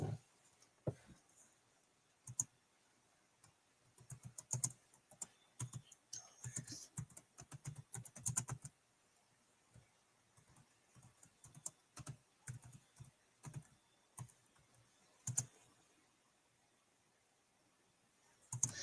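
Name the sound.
typing on a computer keyboard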